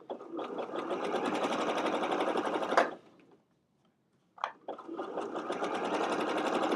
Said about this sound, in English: And I'm sewing kind of at a weird angle,